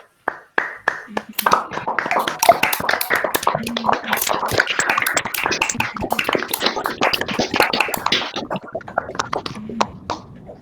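A crowd applauds warmly for about ten seconds, dense clapping swelling and then thinning, with a few voices mixed in.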